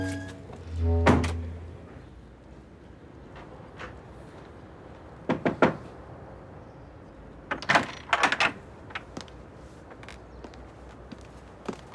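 An indoor door is opened and shut, giving a dull low thump first, then scattered clicks and a cluster of sharp knocks and latch clatters, with faint shuffling movement between them.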